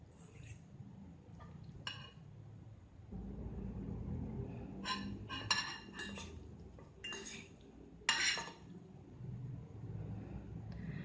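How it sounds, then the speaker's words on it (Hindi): A spoon stirs a marinade of Worcestershire sauce and oyster sauce in a bowl, giving light, irregular clinks and scrapes against the bowl over a low, steady background rumble. "अब इसको मिक्स करेंगे।"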